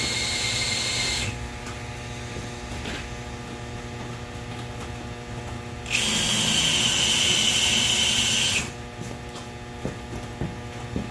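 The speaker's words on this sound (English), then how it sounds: "And I'm just wanting to countersink." Power drill countersinking screw holes in a downdraft table in a workshop: two bursts of high whining drilling, a short one at the start and a longer one midway, over a steady mains hum with small knocks between.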